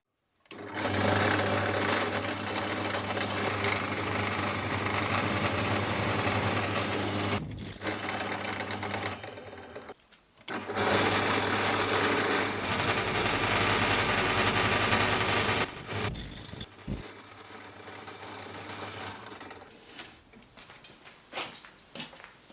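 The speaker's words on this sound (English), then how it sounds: "I'll catch you now in a bit when I do the drilling." A power drill boring into a guitar body whines steadily in two long bursts separated by a short pause, followed by brief clicks and rattles as it stops.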